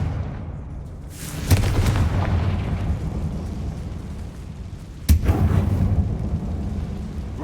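Two booming Confringo spell explosions in Hogwarts Legacy, the first about a third of the way in and the second near the end, each a sharp burst followed by a rumbling tail.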